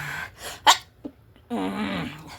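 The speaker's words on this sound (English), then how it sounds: "I felt a sneeze coming on." A single human sneeze, preceded by a few sharp sniffing breaths, then a sustained voiced sound trailing after it, close and indoors.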